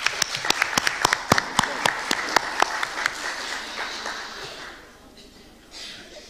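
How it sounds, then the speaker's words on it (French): Audience at a notaries' breakfast event for Women's Day applauding the women present: a run of sharp, distinct claps from a smallish crowd, fairly close, thinning out and fading to quiet room noise near the end. "leur demander d'applaudir toutes les femmes ici qui sont avec nous"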